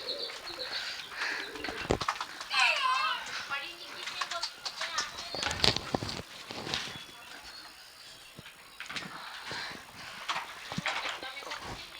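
Pigeons coo in a loft while being fed chickpeas, their low throaty calls mixing with shuffling, scattered pecking clatter and a brief sharper chirp. A person talks intermittently over the birds.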